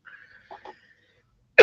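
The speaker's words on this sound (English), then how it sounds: "Sorry about the cough. Can't help it." A single short cough bursts out loudly at the very end, after a faint high whine and a couple of soft breathy sounds.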